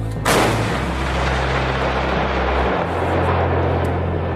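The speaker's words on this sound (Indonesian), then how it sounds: "Sebuah meriam berkaliber 155 mm bernama Caesar Self-Propelled Howitzer" A single heavy blast from a Caesar 155 mm self-propelled howitzer firing booms out near the start, followed by a long rumbling roar and low mechanical drone that persists to the end.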